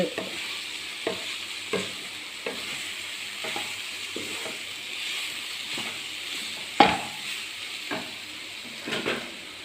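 A spoon scrapes and stirs through a dates mixture in a frying pan with a steady sizzle, repeated strokes every second or so, and one louder knock.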